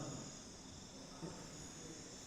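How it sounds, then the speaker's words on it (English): Tree frogs and crickets in the Amazon rainforest, with a cumulonimbus thunderstorm in the background, sustained as a faint, dense, continuous buzzing and trilling chorus that holds steady throughout. "You'll hear something like this. Tree frogs and crickets."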